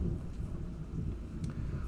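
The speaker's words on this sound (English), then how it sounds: "it is raining intensely outside" Heavy rain falling outside as a steady, muffled rush heard from indoors, faint and continuous with no voices over it.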